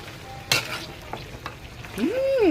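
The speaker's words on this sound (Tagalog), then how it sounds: "Sangkutsahin muna natin at takpan. Ayan, hahalu-haluin din natin." Chicken adobo sautés in a pan and is stirred, with a steady close sizzle broken by scraping strokes of a utensil and a brief clink of metal.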